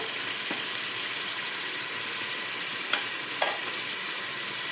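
A spoon stirs chicken pulao masala with curd, chilli and salt in a hot pan, a steady close sizzle running throughout with a few faint scrapes and clinks of the utensil.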